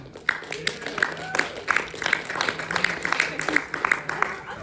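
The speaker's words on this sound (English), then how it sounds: "Applause for Miss Blanche." Audience claps for an honoree named Miss Blanche, a brisk run of distinct handclaps from a small group, close and steady, with voices mixed underneath.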